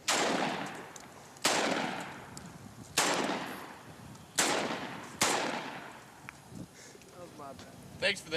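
Shotgun blasts at watermelon targets on an outdoor range, five loud sharp reports spaced about a second or more apart, each ringing out with a long decaying tail, while people talk between shots.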